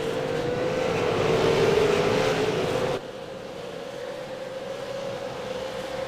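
Race cars roar along a racing circuit at the start of a race, a loud sustained engine drone with a rising whine that drops abruptly to a lower, steadier hum as the pack passes.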